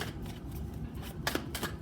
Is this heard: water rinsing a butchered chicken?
no